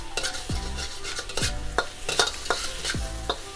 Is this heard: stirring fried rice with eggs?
yes